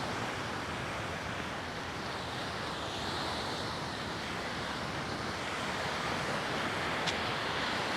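Sea waves washing onto a small beach at Lighthouse Beach in Paphos, a broad steady surf roar with wind across the microphone, moderately loud and continuous with no talking.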